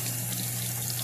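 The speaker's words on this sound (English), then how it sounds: "I want to go ahead and reverse flush this out with some hot water straight out of the tap." Hot tap water flushes backward through a reusable K+P Engineering oil filter from a V-Rod, a steady hiss of running water alone at close range with no pauses.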